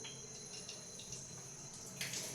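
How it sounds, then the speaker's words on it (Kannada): Tap water runs steadily into a sink as hands are washed in a home kitchen during cooking, a continuous close splash with a brief louder gush near the end. "ಕೈ ತೊಳ್ಕೊಂಡು ಬರ್ತೀನಿ"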